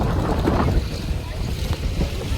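Sea waves wash in at Digha beach in the morning, a broad, steady rush of surf and water mixed with wind buffeting the microphone.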